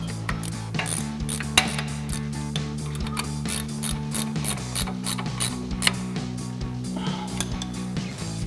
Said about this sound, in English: grab our 15mm ratcheting wrench and tighten that down.